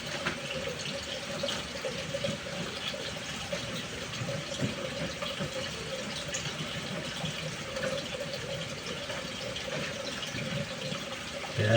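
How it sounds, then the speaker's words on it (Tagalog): Strong current of a clear river rushes steadily and continuously, a dense broadband wash of flowing water with no voices over the whole stretch. "Malakas ang agos."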